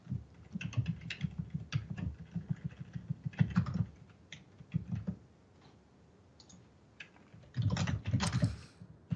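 Bursts of quick clicky typing on a computer keyboard while writing a code test, close up, with short pauses between runs of keystrokes and no talk.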